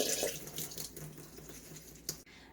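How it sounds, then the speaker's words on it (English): Cold tap water runs steadily over a strainer in a kitchen sink, a continuous soft splashing hiss that cuts off abruptly near the end. "Then pour it over the strainer and run the cold water over it"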